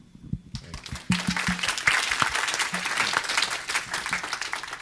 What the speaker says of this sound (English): And for that, I applaud you.